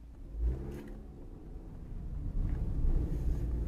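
A Peugeot 2008 Allure car pulls away with a low engine rumble that builds toward the end, steady road noise underneath and no talk.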